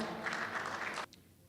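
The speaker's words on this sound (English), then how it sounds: "A huge round of applause." A conference audience at the inaugural function of the World Cashew Convention 2018 gives a soft, distant round of applause that stops abruptly after about a second, followed by a quiet room.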